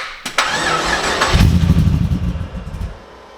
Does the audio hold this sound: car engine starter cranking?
yes